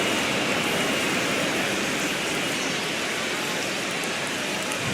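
Steady rain pours over a baseball field in the MLB The Show 26 video game, a dense, unbroken hiss of falling water at constant loudness with no voices.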